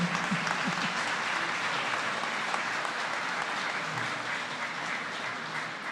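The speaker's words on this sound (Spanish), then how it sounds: "Aplausos para el Tribunal Constitucional" At a ceremony opening the constitutional judicial year, a hall full of people applauds the Constitutional Court, a steady, moderately distant roll of clapping that holds evenly for six seconds.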